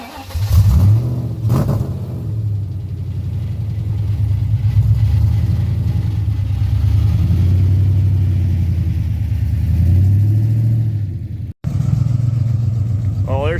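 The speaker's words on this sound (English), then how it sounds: "it barely had enough power to make it up the driveway slope" A 2003 SVT Mustang Cobra with a badly worn clutch strains up a sloped driveway, its engine droning and rumbling loudly and steadily at low revs before a brief cutoff, with people talking over it.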